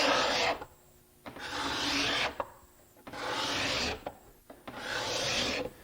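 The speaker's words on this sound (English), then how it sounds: "if I skew my scraper slightly to the face of the board, that I can oftentimes get a better cut" A steel card scraper pushed across the face of a wooden board, skewed slightly, in three long rasping strokes separated by short pauses; close, steady and loud with no talking.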